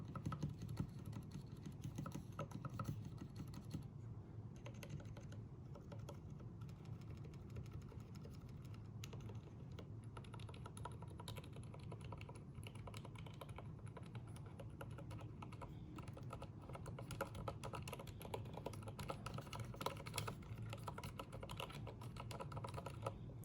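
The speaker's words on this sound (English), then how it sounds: "if we want to hear these Zeal silent linears go to work" Continuous soft, muffled typing on a custom keyboard with Zeal silent linear switches, rapid, even keystrokes, close up and fairly quiet, with no voices.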